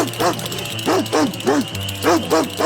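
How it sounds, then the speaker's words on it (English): A big hungry dog barks in quick bursts of two or three while chasing ducks, sharp, close and loud over a steady low hum. "Suddenly, a big hungry dog came chasing the 2 ducks."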